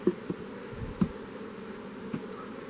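Honey bees on a comb of dark, old wax give a soft, continuous buzzing hum, with a few faint knocks and bumps close by.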